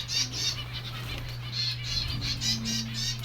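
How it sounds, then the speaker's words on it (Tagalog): A large flock of birds passes overhead with a soft, rhythmic whooshing of many flapping wings, pulsing steadily over a constant low hum, moderately near with no voices. "Ayan yung mga ibon na taas, oh. Dami, oh."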